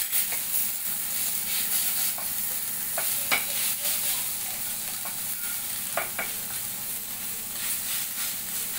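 Chopped spinach sautéing in a pan over roasted gram flour, a steady close sizzle and hiss with scattered light spatula taps and stirs, no one speaking.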